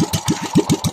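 A rusty boat engine, about fifteen years old, chugs in a fast, even rhythm of low thumping pulses, about eight beats in a second, close and fairly loud with no voices.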